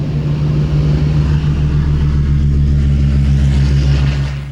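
Clipped-wing Supermarine Spitfire Mark V accelerating for takeoff down runway 04 at the Shuttleworth Collection's Old Warden airfield: a loud, steady piston-engine roar with a deep harmonic drone that holds throughout and eases off right at the end.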